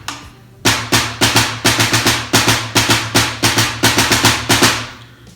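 Drum beat on a Ludwig Breakbeats kit with Remo SilentStroke mesh heads and the snare wires engaged, sharper and louder rattling hits in a steady repeating pattern after a brief pause.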